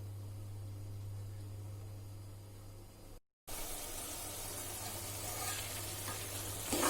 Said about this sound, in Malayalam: ഇത് നമുക്കൊരു 5 മിനിറ്റ് സിമ്മിലിട്ടിട്ട് ആ തക്കാളി ഒന്ന് അതുമായിട്ട് നന്നായി യോജിക്കുന്ന വരെ നമുക്കൊന്ന് സിമ്മിലിട്ട് വെച്ച് കൊടുക്കാം